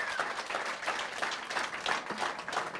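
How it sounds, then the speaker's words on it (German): A small crowd at a Werder Bremen talk event claps together for a few seconds, a busy patter of hands at moderate distance. "kriegt er jetzt mal stellvertretend einen Applaus für die ganze Saison"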